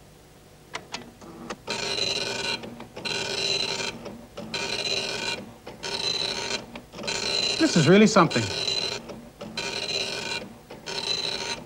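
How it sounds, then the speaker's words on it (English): An early computer printer prints a Christmas Carol document in a steady series of rasping, mechanical passes with short pauses between lines, close and moderately loud, while a person briefly talks over it. "And now press F2 to start printing Christmas Carol."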